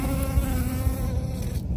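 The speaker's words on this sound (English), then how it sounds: "just listen to this recording that Sarah took with her phone while videoing some bees on the crocuses" Honeybees buzzing around crocus flowers, caught on a phone: a close, continuous insect drone with wavering pitch as individual bees move nearer and farther, and no voices.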